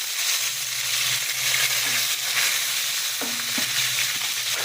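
Garlic cloves and curry leaves frying in oil in a pan, a loud continuous sizzle with scraping stir strokes and a brief clatter toward the end.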